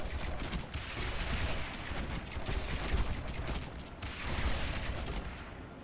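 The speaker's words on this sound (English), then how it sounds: "There you go, artillery support coming in." Artillery support firing in the tower defense video game Rogue Tower, a dense, continuous barrage of overlapping booms and crackling blasts that stays loud throughout, with slight swells in intensity and no voices.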